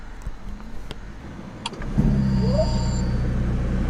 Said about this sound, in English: And the engine goes on.